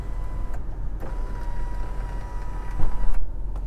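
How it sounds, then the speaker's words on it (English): A Toyota Sequoia's electric moonroof motor whirs steadily as the roof panel tilts and slides, a close mechanical hum with a few faint clicks and a brief louder stretch near the end. "So that's a tilting moonroof and a sliding moonroof."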